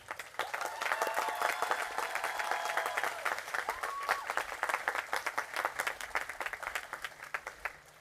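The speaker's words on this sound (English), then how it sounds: "Will you all please join me in applauding these parents?" Audience at a 2023 university commencement ceremony applauds the graduates' parents, with sustained, dense clapping from a large crowd throughout, carried under faint background murmur.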